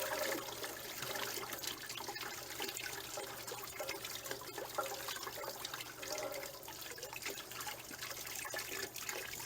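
Water drains and trickles out of an RV water heater after a hose flush, a steady low gurgling flow at moderate distance with no talking.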